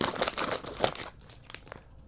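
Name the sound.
opening bag of Nissin black pepper crab chips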